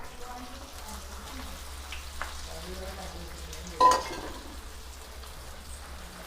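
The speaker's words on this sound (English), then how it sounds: "Now we are going to fry it again for second time to make it more crispier." Soft, continuous sizzling of potatoes deep frying a second time in hot oil, with a brief louder clatter partway through.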